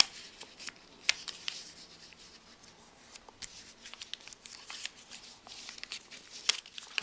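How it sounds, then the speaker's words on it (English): Origami paper being folded for a box and pen stand, giving soft crinkles, rubs and sharp creasing snaps scattered irregularly throughout, close up and fairly quiet with no talking. "So you fold it like this."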